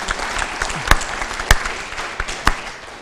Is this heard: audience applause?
yes